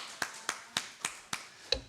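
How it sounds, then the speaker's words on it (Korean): A church congregation at a Sunday morning worship service claps in a slow, even rhythm, six distinct sharp claps spaced about a quarter second apart, fairly faint with no talking. "우리 박수 한번 하겠습니다."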